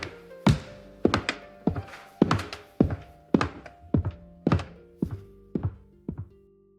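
AI-generated footsteps on a floor: about a dozen crisp, dull thuds fall at an even walking pace, close and clean with short decays and no other sound.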